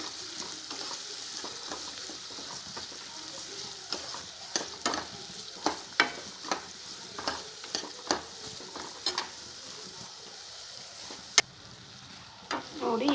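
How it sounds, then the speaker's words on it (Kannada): Semolina being stirred and roasted in a pan for upma, with a steady soft sizzle and repeated scraping stir strokes, fairly close and moderately quiet, with no talk over it. "ಇದು ಚೆನ್ನಾಗಿ ಈ ಥರ ಮಿಕ್ಸ್ ಮಾಡಬೇಕು. ಹಸಿ ವಾಸನೆ ಹೋಗುವವರೆಗೂ ಚೆನ್ನಾಗಿ ಹುರಿಯಬೇಕು."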